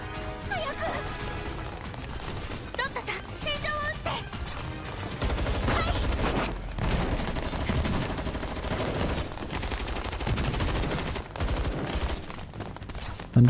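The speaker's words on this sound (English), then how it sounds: "Under Suomi and Lada's fire, the ceiling produces falling debris once again" Gunfire in the video game Girls Frontline 2 aimed at a ceiling, causing falling debris: rapid automatic shots and crashing impacts amid game music and effects, fairly loud and continuous across the scene.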